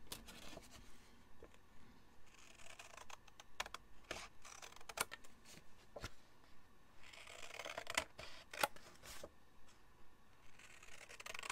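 Scissors snip through card paper while shaping a diamond-fold card, a soft run of quick clipped cuts and light paper rustle at close range, quiet and without speech.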